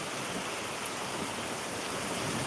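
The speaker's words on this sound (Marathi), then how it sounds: "या ठिकाणी जोरदार अशा मुसळधार पावसाला सुरुवात झालेली आहे" Heavy monsoon rain pours at a bypass junction on Gadegaon Road in Barshi, a dense, loud, unbroken hiss that fills the whole clip with no voices.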